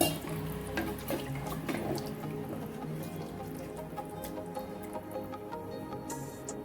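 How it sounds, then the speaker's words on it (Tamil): Water is poured steadily into a pan of chicken salna for cooking, a continuous close splashing and gurgling pour lasting several seconds with no talk over it. "இப்போ இதோட சிக்கன் வேகிறதுக்கு தேவையான அளவு தண்ணி சேர்த்துக்கோங்க"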